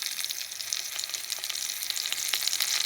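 Homemade linked sausages and thick-cut bacon fry over low heat, giving a steady, close crackle of fine spits and pops that grows slightly busier toward the end, with no voices.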